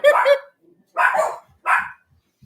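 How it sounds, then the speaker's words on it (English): Dogs bark at something outside a window: three loud, close, sharp barks, the first longer and doubled, separated by short pauses of quiet. "They like to bark at everything out the window."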